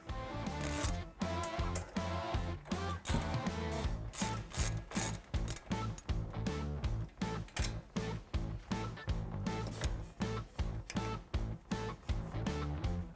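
A ratchet wrench loosens a 12mm bolt on the suspension of a 2016-2020 Toyota Tacoma during a shock install, with close, loud, steady rhythmic ratcheting clicks repeating throughout.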